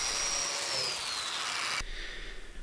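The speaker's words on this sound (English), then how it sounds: "the last thing to do is to cut the corresponding mortises in the web frames." Power tool whines at high pitch while cutting mortises in wooden web frames of a mid-century modern nightstand, a steady close buzz that cuts off abruptly near the end, leaving faint low rumble.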